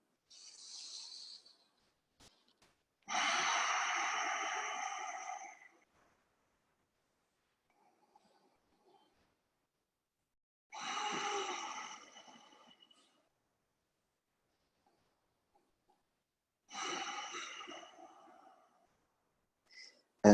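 During a yoga fist-squeeze exercise, three long, deep breaths sound close to the microphone, each an airy hiss lasting a couple of seconds. Quiet pauses separate the breaths, and one short faint breath comes before them.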